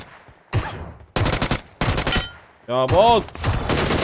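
Bursts of gunfire in a shooter video game, several loud rapid volleys separated by short gaps, with a voice speaking over the shooting.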